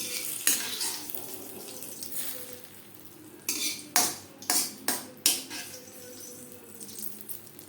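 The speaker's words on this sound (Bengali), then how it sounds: "জিরে ও তেজপাতা ভেজে নেওয়ার পর গ্যাসের ফ্লেমটা অফ করে দেব ফোড়ন দিয়ে দেব ডালে" Fried cumin seeds, bay leaf and chilli tempering stirred into papaya masoor dal in a kitchen pot, heard as soft stirring and scraping with a run of sharp metallic clinks and knocks of a spoon against the pan partway through.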